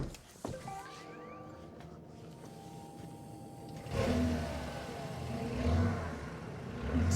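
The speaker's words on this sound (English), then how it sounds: "Got a new exhaust on it. Right. It's got a V8 turbo now." A car fitted with a new exhaust and a turbo V8 engine revs up from idle in short bursts, the engine note swelling loudly twice over a low rumble, with people talking nearby.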